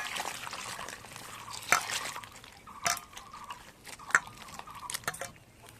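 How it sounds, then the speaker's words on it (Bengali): Pieces of bottle gourd are washed in water, with splashing, sloshing and a few sharp knocks in an irregular rhythm, close and fairly quiet. "এবার আমি লাউগুলোকে খুব ভালো করে ধুয়ে নেবো"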